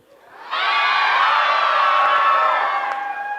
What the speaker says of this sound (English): I'm going to end my speech with a loud breakthrough cheer.